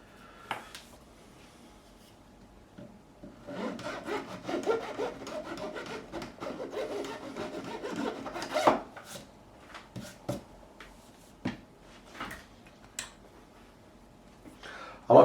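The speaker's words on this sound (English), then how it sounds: "but we just scrape" Scraping by hand along the fingerboard of a 1986 Hamer Chaparral guitar during a refret and re-radius, heard as repeated close rough rubbing strokes, busy in the middle stretch and giving way to sparser scrapes and clicks.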